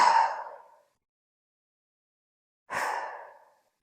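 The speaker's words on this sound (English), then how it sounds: "Make a little bit deeper exhale." Two deep breathy exhales during an exercise session, each strong at first and then tapering off, separated by about two seconds of silence and close to the microphone.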